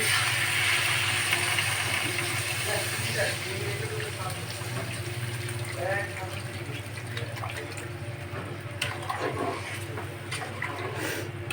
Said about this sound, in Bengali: মুদ্রা মশলাটা কষ্ট হয়ে গেছে আলুর সঙ্গে এখন আমি ঝোলটা দিয়ে দিচ্ছি